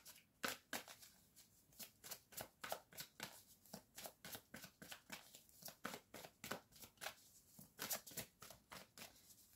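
Cards being shuffled and handled during a card reading, rhythmic crisp flicks repeating at a steady pace for several seconds, close and quiet with no talking.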